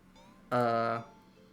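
A single loud, clear meow from a cat in a video game rises sharply, holds for about half a second and fades, standing alone against a quiet background.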